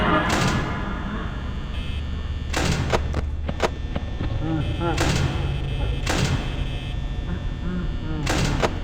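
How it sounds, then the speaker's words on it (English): Security doors in the video game Five Nights at Freddy's slam and clank repeatedly, several sharp loud mechanical bangs at intervals over a constant droning background, with a voice talking at times. "But I need to remember to open this door."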